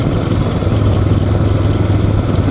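A motorcycle engine hums steadily and loud while riding along a hilly road in Meghalaya near Cherrapunji, a low continuous drone with rushing wind and no talk.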